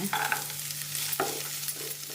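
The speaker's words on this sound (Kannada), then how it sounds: "ಸ್ವಲ್ಪ ಕ್ಯಾರೆಟು, ಸ್ವಲ್ಪ ಬಟಾಣಿ ಹಾಕೋಣ. ಎರಡು ಫ್ರೈ ಆದಮೇಲೆ" Carrots and peas stir-fry in a pan for fried rice, with a steady loud sizzle and scraping stirs of a spatula, close and continuous, no talk.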